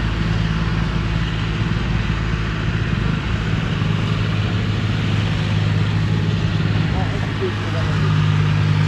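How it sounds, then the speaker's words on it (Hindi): A tractor engine runs continuously while driving, a steady low rumbling drone with constant noise that lasts throughout. "ये कितना ऊंचा खड़ा होकर चलता है ट्रैक्टर"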